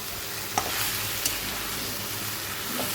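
Bottle gourd is stirred with spices in a wok over a steady, close hiss of frying, and a few sharp scrapes and clicks of the spoon cut through it.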